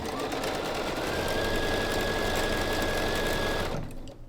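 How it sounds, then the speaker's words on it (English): A sewing machine stitches a quilt block, a steady, close, continuous motor whir with rapid needle clatter and a faint high whine, running alone for several seconds before stopping abruptly. "So let's start sewing."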